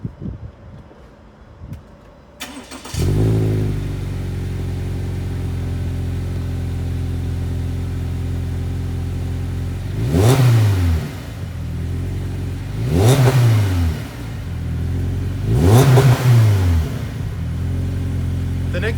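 A project car with a 2.5 inch AVO cat-back exhaust, up on a lift, cranks and starts, settles into a steady idle, then gets three sharp revs a few seconds apart, close and loud.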